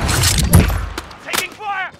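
A grenade goes off in Call of Duty Warzone on Rebirth Island, a loud close blast with rumble and scattered debris. Radio-style voice chatter follows right after it.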